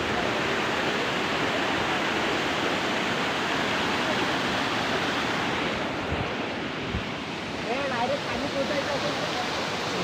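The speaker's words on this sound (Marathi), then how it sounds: "धबधबे" Monsoon waterfall on a hill-fort trail near Matheran, a dense continuous roar of falling water that stays loud and even, with a brief dip and some faint talk near the end.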